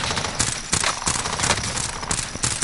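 An Uzi is hip-fired in Warzone, letting off rapid, close bursts of automatic gunfire with short gaps between volleys.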